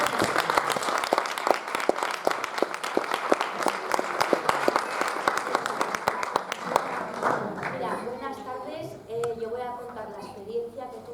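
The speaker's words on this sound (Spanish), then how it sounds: "Vamos a recibirla con un fuerte aplauso" An audience claps in welcome at a women's event, with brisk, dense applause running for several seconds before tapering off as a voice begins speaking over the last scattered claps.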